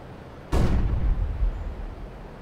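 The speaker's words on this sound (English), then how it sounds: "Throwing flashbang." A flashbang grenade detonates in CS:GO with one sudden, loud burst followed by a low rumbling tail that fades over about two seconds.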